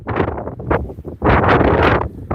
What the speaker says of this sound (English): I know it's windy, guys.